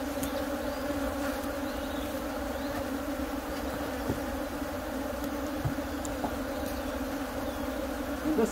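Honeybees hum in a dense, steady drone as they crowd into the hive during a canola split, sounding close and continuous with no talk.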